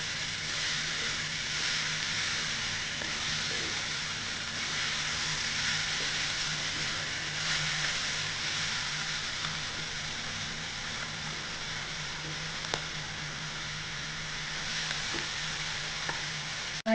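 Beef frying in a pan while being stirred, giving a steady, dense sizzle with occasional scraping clicks, close and continuous with no talk.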